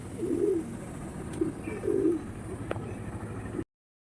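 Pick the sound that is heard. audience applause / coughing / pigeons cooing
pigeons cooing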